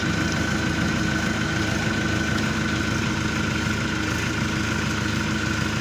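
Orion 404 tractor engine running steadily at a low, even idle, a close continuous rumble with no voices.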